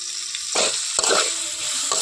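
Boiled taro with turmeric, green chili and salt fries lightly in a pan, giving a steady close sizzle broken by scraping stirs and clinks of a spoon.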